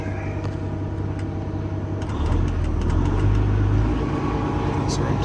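A Paccar MX13 455 hp diesel in a 2017 Peterbilt 579 truck with 13-speed manual idles with a steady low rumble, rising slightly in pitch and loudness partway through, with voices heard over it.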